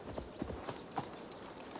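Hollow hoof clip-clops from a horse in Assassin's Creed Valhalla, several irregular steps close by, with a faint electronic game-like background.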